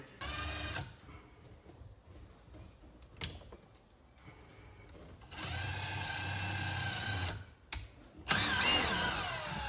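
A power drill whirs in several short bursts with pauses between, then runs longer and louder, close by, drilling holes in the floor of a MasterCraft Prostar boat.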